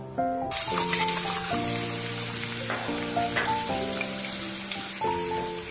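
Onions sizzle steadily in hot oil in a kadhai, a continuous bright hiss that runs throughout beneath louder background music with sustained, shifting notes.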